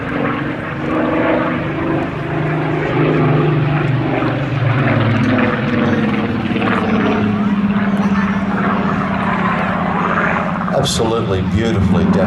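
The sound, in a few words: Supermarine Spitfire PR.XIX Rolls-Royce engine aircraft flying display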